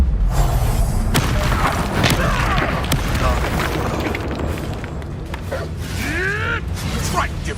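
A fire spell blast erupts in the Hogwarts Legacy video game, a loud booming whoosh amid busy combat effects, with voices shouting spell names over the fight.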